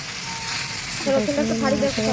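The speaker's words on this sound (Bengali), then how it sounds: "আমি এখানে দিয়েছি আদা বাটা, রসুন বাটা, পেঁয়াজ বাটা দিয়ে একটু জল দিলাম, দিয়ে একটু নেড়ে নেবো" Ginger, garlic and onion paste with a splash of water sizzles and hisses in a hot pan as it is stirred; a voice joins over the frying partway through.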